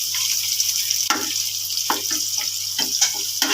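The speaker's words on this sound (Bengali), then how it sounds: "ভালো করে নেড়ে নিতে হবে যেন পুড়ে না যায়" Pasta being stirred in a frying pan over a steady sizzle, with scattered scraping and clinking spoon strokes close by.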